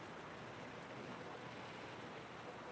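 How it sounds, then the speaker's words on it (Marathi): Sea waves wash on the shore at a quiet morning beach near Sarjekot in Konkan, a faint, steady surf heard from a distance with light wind and no talk. "समुद्राच्या खळाळत्या लाटा इथे आनंद देतात"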